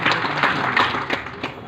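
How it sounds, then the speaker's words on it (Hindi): Brief burst of audience applause at a Hindi-language presentation on IndusViva Healthscience Ayurvedic products, a dense even patter of many clapping hands at moderate volume, with no voices over it. "पर इसके लिए जोरदार ताली"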